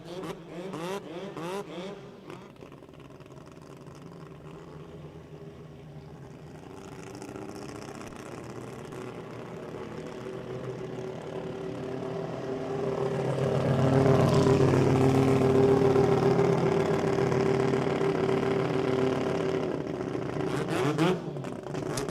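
Drag racing engines at an Australian sports compact meet, a Mitsubishi Eclipse against a Mazda 6, rumble at a distance and then swell into a louder sustained roar midway before easing slightly, with no voices.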